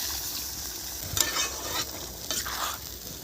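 Water goes into a pan of sizzling ginger, cumin and tomato, making a steady close hiss broken by two sharper bursts of spitting steam.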